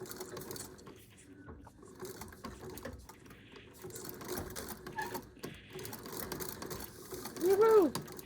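A treadle sewing machine runs in bursts, its needle clattering in a quick mechanical rhythm, close and moderately loud, with a voice briefly exclaiming near the end.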